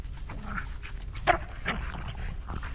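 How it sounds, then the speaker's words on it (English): Several dogs yip and bark intermittently at a moderate distance outdoors during a Texas snowstorm, with short whimpering calls scattered over a steady low background rumble. "The dogs, as you can see, they're over there playing."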